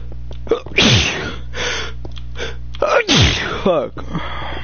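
Two loud, close sneezes in a room, each with a sharp inhaled gasp and then an explosive burst, about two seconds apart, followed by a short breathy vocal sound.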